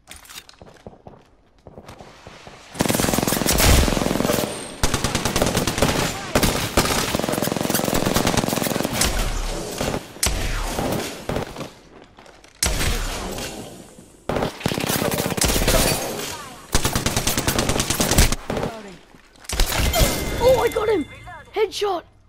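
Peacekeeper shotgun blasts from a first-person video game ring out in loud, repeated bursts with short gaps between them, mixed with game effects and voices talking.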